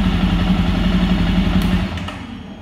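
A Royal Enfield Hunter or Jawa 42 Bobber motorcycle idles with a loud, even thumping rumble, then cuts off abruptly near the end, leaving a fading clatter and quiet.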